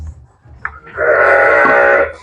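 Sheep on a farm where a ewe and her lambs are being separated for weaning; a loud, sustained bleat rises after a brief lower call, close and clear with no talking.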